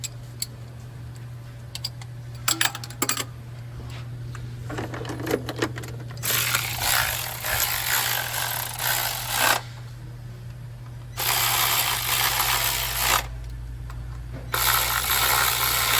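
A 10 mm socket drives bolts down on a 2002 Toyota Tacoma 2.4 while the coils are being fitted. Close, rapid ratcheting bursts of several seconds each are separated by quieter gaps with small clicks and taps, and no one talks.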